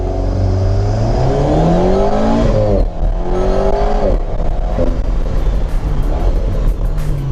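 A car accelerates hard from a standing start, its engine revving loudly and climbing through rising sweeps with quick gear changes, close and powerful throughout.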